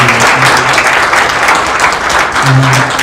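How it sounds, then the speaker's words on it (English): A museum audience at a curator's coffee talk breaks into loud, sustained applause, dense clapping filling the room evenly from start to end, with a faint low murmur underneath. "Give another round of applause for Dr. Johnson."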